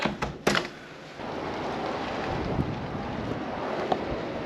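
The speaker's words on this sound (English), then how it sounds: "It is very windy and very cold." Strong, cold desert wind buffets the microphone in a constant loud, rushing roar, with a few sharper gusts near the start.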